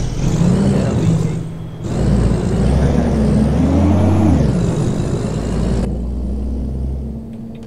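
A Volvo VM truck with a lowered chassis drives on the road from Salvador to Alagoinhas, its diesel engine rumbling steadily close by, with gear changes shifting the engine's pitch and a brief hiss of air from the brakes.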